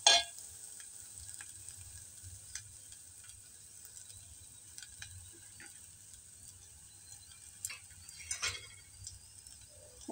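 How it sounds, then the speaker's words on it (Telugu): Egg curry frying in a pan gives a faint, steady sizzle with scattered clicks and scrapes of stirring, no voices over it. "ఫ్రై చేద్దామండి।"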